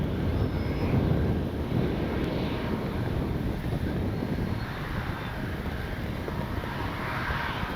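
An FMS 70mm A-10 Thunderbolt II V2 RC jet flies its landing approach with its gear down, a steady, broad ducted-fan roar mixed with wind rumble on the microphone, continuous and fairly loud throughout.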